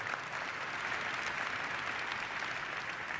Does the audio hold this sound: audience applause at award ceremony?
yes